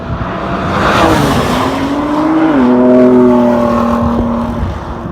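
A 2017 Ford GT supercar's engine roars steadily and loud as the car drives, the pitch rising and sliding through shifts before settling into a sustained high drone, with no talking over it.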